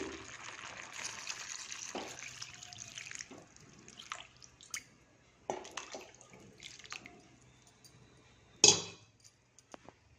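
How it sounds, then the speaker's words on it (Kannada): Water poured into a cooking pot for white pulao made with Sona Masoori rice, a steady splashing stream for a few seconds, then scattered drips, faint clinks and one sharp splash near the end. "ಇವಾಗ ನೀರು ಹಾಕ್ತೀನಿ"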